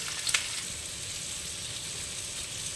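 Green chillies and panch phoron spices frying in hot oil with onion for a potato and pea curry, a steady close sizzle with a brief louder crackle near the start.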